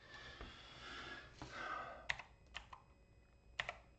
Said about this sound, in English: Oh, we'll just type in Jadite.